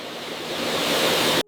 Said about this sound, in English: Air dryers remove surface water, preparing tomatoes for the sorting process.